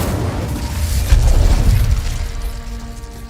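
Incendio fire spell in Hogwarts Legacy bursting with a deep, loud whoosh and boom that peaks midway, then trails off into rumbling with faint mechanical rattles.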